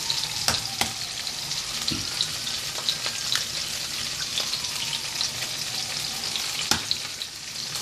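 Green peppers frying in a pan for an omelette, a steady crackling sizzle throughout with a few sharp pops and light stirring clicks, no one talking.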